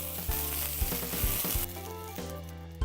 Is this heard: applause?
no